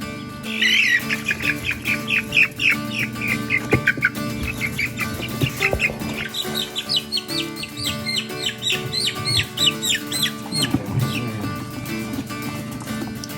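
Chicks clucking and chirping in a steady chatter on pasture, fairly close, with scattered rustling and movement underneath.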